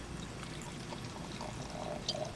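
Red wine, a 2018 Durigutti Bonarda from Argentina, is poured into a glass: a soft, quiet liquid trickle over faint room noise lasting a couple of seconds.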